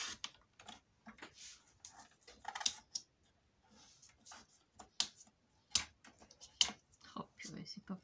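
Paper being cut to size on a paper trimmer for a scrapbook album, a quick irregular run of close, faint clicks and slicing ticks with soft pauses between them, and some quiet talk mixed in.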